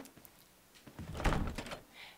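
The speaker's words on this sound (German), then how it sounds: "Tür ist verschlossen, ein Rüstungssymbol." A locked door in Resident Evil HD Remaster rattles and thunks as its handle is tried, a short cluster of knocks and clatter rising over quiet game ambience, moderately close.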